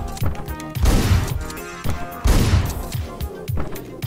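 Heavy gunfire in the game Hotline Miami bursts out in several loud, booming volleys, each followed by echoing crashes, repeating every second or so.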